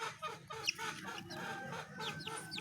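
Unvaccinated backyard chickens cluck softly and steadily in a short, faint stretch, with scattered higher squawks over a low murmur of ambient noise.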